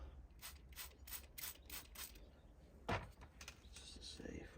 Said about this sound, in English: spraying this with some water